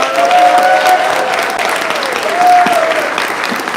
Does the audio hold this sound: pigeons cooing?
no